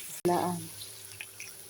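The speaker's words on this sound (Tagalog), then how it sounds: "Lalagyan ko ito ng kaunting tubig." Water poured into a pan of sautéed half onion and two garlic cloves, a short splash and sizzle that fades quickly, with faint kitchen clinks afterward.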